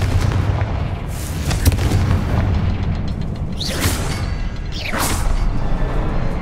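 A Confringo fire-spell blast in the video game Hogwarts Legacy: loud booming impacts over a dense rumbling backdrop of game sound, with sharp whooshing bursts near the end.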